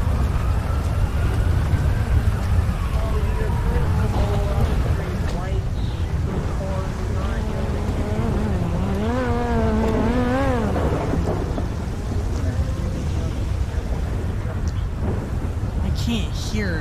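Heavy rain and rumbling thunder in GTA 5 form a loud, continuous low roar during a police patrol roleplay, with a talking voice and wavering tones over the top.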